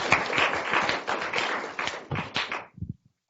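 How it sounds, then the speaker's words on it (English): A round of applause for a presenter at a technical talk on an astronomical time-series classification challenge, dense clapping from a room audience that thins out into a few scattered claps and stops near the end. "let's give Melissa a round of applause again"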